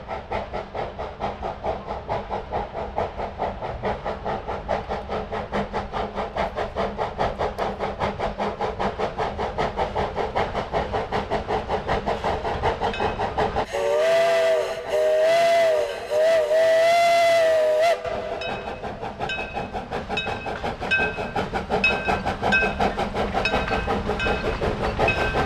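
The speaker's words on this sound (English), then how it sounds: "the train is going to be working its way upgrade on the outbound track." Steam locomotive hauling a train upgrade on an outbound track at night, with heavy rhythmic chuffing and hiss throughout, broken midway by a loud, sustained multi-tone steam whistle blast lasting several seconds.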